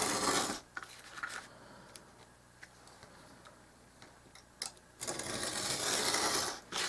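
Scissors snip through a paper sheet for a dollhouse miniature front porch, making a series of faint, crisp clicks spaced irregularly, framed by louder rustling handling noise at the beginning and end.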